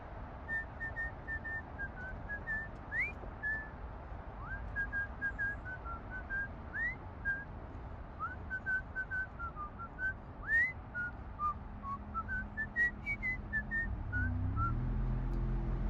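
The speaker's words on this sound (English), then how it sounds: "Mama begins to whistle a soft, sweet song, Honeybun's melody." A person whistles a soft, sweet lullaby melody while rocking a crying child, the gentle wavering tune running steadily throughout over a low background murmur that swells near the end.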